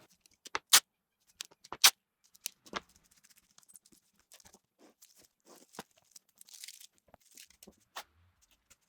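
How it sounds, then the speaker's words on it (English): Clear packing tape is pulled from the roll and pressed onto scrap wood strips being joined for a jigsaw puzzle. Several sharp ripping bursts come early, then scattered softer crinkles and taps, close by, with no talking. "I'll tape them together with clear packing tape"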